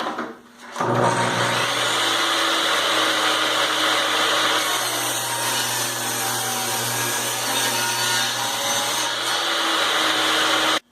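A table saw cuts through a pine board for a window extension jamb, spinning up sharply and then holding a loud, continuous whine and buzz for around ten seconds, close by and with no talk.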